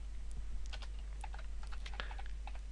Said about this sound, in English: We now type in Java space